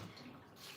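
Yams get one last rinse in water, giving a short, soft splash and slosh of washing that stays faint and close for under a second.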